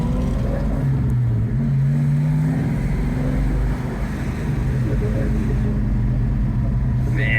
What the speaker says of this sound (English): Man, this thing sounds great.